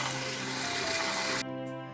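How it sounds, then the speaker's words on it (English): Cold tap water gushes hard into a colander of shallots, a loud, steady hiss and splash that cuts off abruptly near the end, leaving a fainter trickle. "Into the colander and lots of cold water."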